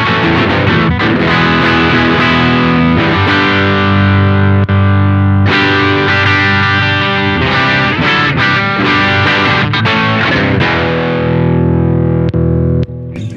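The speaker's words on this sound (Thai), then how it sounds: "ฝั่งขวาเนี่ยก็จะเป็นเสียงแบบมาร์แชลบลูส์เบเกอร์แต่รู้สึกว่าเอาท์พุตจะน้อยกว่าฝั่งซ้าย" Electric guitar played through a NUX Queen of Tone dual overdrive pedal on its Marshall Bluesbreaker-style side, giving loud, continuous distorted chords and sustained notes, close and alone, fading briefly near the end.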